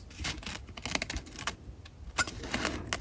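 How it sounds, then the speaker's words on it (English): Scissors snipping along the edge of a sheet of paper, a series of close, crisp, irregular clicks and cuts over a quiet background with no talk. "I'm gonna take my scissors"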